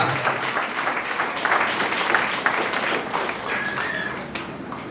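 A church congregation claps along during worship, steady rhythmic hand clapping from many people that goes on without a break, fairly loud and filling the space.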